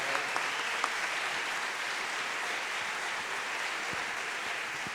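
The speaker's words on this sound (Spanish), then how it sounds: "Fuertes aplausos para ellos." An audience applauds a theatre company at an evening event, a dense and sustained wash of many hands clapping at once, steady and loud throughout, with no distinct voices.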